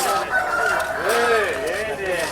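Roosters crowing and chickens clucking at the Gokura village poultry market, several overlapping crows rising and falling close by, steady and fairly loud over a busy background.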